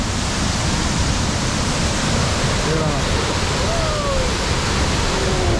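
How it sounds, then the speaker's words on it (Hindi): Water flows in a strong rush, a dense, steady broadband roar that fills the whole stretch without a break, loud and close. "पानी का जो बहाव है वो तो ऐसे आ रहा है"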